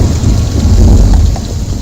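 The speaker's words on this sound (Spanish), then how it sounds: "Por la tarde la lluvia arreció y al caer la noche diluviaba." Heavy rain and rolling thunder from a storm, used as a sound effect in a radio drama, form a loud, dense, continuous roar through the whole stretch with no voices over it.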